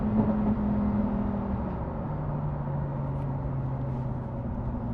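A Lamborghini Huracán STO road car's engine hums steadily and then shifts to a lower drone, moderately loud and continuous, with no talking.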